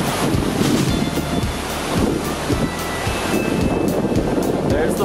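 Stewart Falls, a waterfall heard up close, gives off a continuous roaring rush of water mixed with gusty wind buffeting the microphone.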